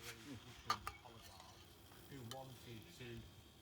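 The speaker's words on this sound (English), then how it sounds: "All in the sizzle, Bruce. All in the sizzle" Meat sizzles steadily in a hot pan at a motorhome and van meetup, with a couple of sharp utensil clinks and a voice speaking over the frying.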